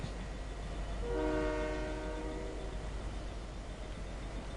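A train in the video game Fortnite rumbles steadily while a horn blares briefly in the middle, the rolling noise continuing on its own after the horn fades.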